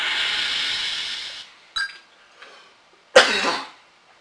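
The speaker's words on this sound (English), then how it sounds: "I might have to cough here." A single person coughs loudly in a short burst after a steady hiss, with a smaller throat sound just before the main cough, close to the microphone while playing the Intellivision game Shark! Shark!.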